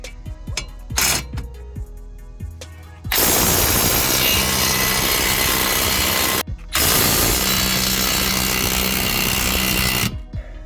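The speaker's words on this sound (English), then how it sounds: "instead of using the electric impact here, I see that it's having a little trouble." An electric impact wrench hammers at stubborn, Loctite-coated 19mm caliper bracket bolts on a Chevy's front brakes, giving two loud, sustained rattling bursts after a few short taps.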